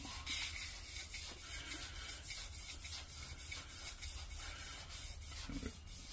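Sandpaper held in a lace wrapped around a car crankshaft journal rubs steadily in a continuous, even scrubbing rasp, close and fairly quiet, with no voices.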